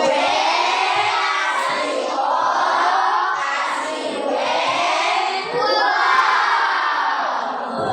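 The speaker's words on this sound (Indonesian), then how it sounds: "Kita kasih tepuk wow untuk kita." A group of people at an Islamic talk on fasting and breaking the fast doing a clap-and-shout "tepuk wow" chant, loud, rhythmic massed voices swelling in repeated waves close by.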